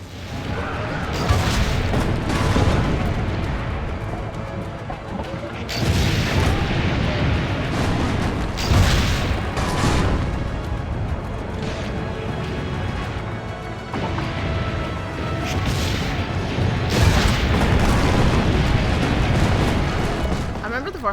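Cannons fire in the Assassin's Creed Brotherhood video game as repeated heavy booms and crashing blasts that roll across the scene at intervals, mixed with game voices and a talking player.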